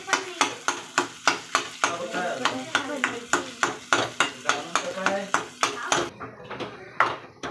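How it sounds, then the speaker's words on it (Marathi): Cooked, thickly chopped potatoes being smashed in a pan for potato paratha filling, with rapid, regular thumping strikes of a utensil against the pan, about three per second, close and loud. "हे बटाटे आपण अशा प्रकारे स्मॅश करून घ्यायचे"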